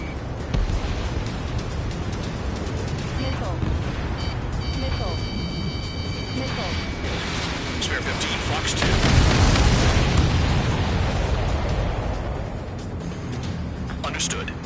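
Missiles striking fuel tankers in Ace Combat set off a dense, continuous roar of explosions and jet noise that swells louder midway, with radio chatter talking over the din.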